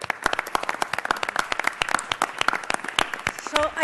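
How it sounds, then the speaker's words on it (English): A crowd applauding at a city council meeting, sharp individual claps in a moderately sized room, steady and fairly quiet throughout, with a voice starting at the very end. "Give them a round of applause."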